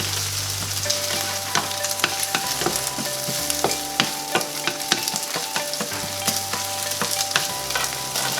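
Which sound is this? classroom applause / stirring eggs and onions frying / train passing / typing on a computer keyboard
stirring eggs and onions frying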